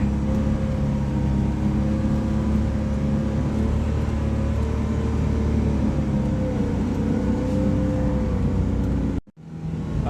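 A Suzuki Carry mini truck fitted with tracks pushes snow with its bumper, its engine holding a steady, close drone that cuts out abruptly just before the end.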